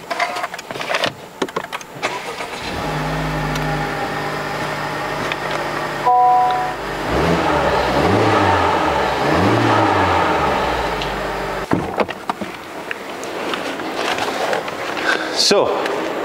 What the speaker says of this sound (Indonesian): Nak dengar tak macam mana bunyi Honda Civic FL5?